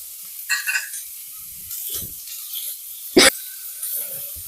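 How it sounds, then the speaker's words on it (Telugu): Onions frying in a pan for vegetable pulao, a soft intermittent sizzle with a few short crackles and stirring bursts, mostly quiet between them. "పచ్చి వాసన పోయేంత వరకు మనం వేయించుకోవాలి"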